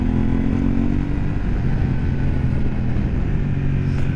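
A 2023 KTM 890 Adventure on knobby Bridgestone tires rides along a road, its engine droning loud and steady with a rushing wind roar throughout, close and continuous with no speech.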